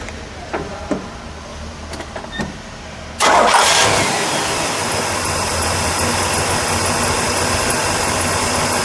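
A car engine indoors cranks and catches abruptly, then settles into a loud, steady, smooth idle that continues to the end; faint clicks and handling noises come before the start.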